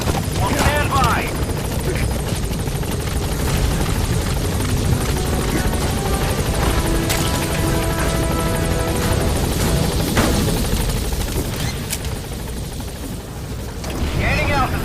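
The helicopter Pequot comes in to land at the LZ in Metal Gear Solid V, its loud, continuous rotor thrum filling the scene while voices speak over it and clanks and knocks cut through.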